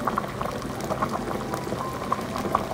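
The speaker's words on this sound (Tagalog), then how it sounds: "na pakuluan siya" Apple soup boiling in a pot, steady close bubbling with small pops and gurgles throughout.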